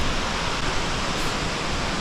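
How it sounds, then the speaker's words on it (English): A waterfall in Longshui Gorge, Wulong, heard from a nearby bridge as a dense, steady broadband rush that never changes, with no voices. "We're close to the waterfall."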